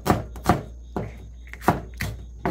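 Knife chops on a cutting board while preparing webfoot octopus and onion, six sharp thuds at uneven intervals, fairly close, with quiet pauses between strikes.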